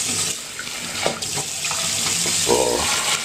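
Cold tap water runs steadily from a faucet into a cooking pot in a kitchen, a continuous close splashing hiss with a few light clinks.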